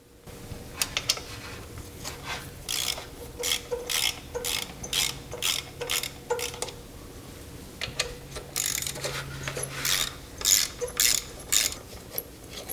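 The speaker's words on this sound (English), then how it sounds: "now we need to remove the two 10mm bolts on the either side of the EGR" A ratchet backs out 10mm bolts from the EGR valve on a GM 3.4L V6. It clicks in quick bursts of rapid ticks, close and fairly loud, with short pauses between strokes.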